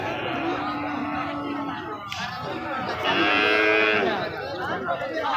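A calf moos amid a noisy cattle market in Panchbibi, with people chattering nearby throughout the crowded scene.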